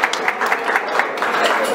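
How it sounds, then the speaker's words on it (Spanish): Audience applause at an awards ceremony honouring boxing and lucha libre, a dense patter of hand claps at steady moderate loudness, with some voices mixed in. "El aplauso para ellos, por favor."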